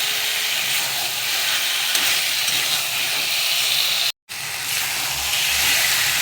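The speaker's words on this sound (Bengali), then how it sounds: "আলুগুলো সিদ্ধ হবে একটু, তাই মাংসের সঙ্গে একটু কষিয়ে নিচ্ছি।" Chicken pieces and potatoes fry together in a pan for a Bengali kosha-style dish, making a loud, steady, close hiss and sizzle that cuts out briefly once.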